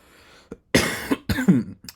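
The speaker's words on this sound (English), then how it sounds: "There's the cough" A person coughs two or three times in quick, harsh bursts, close and fairly loud, with short pauses between.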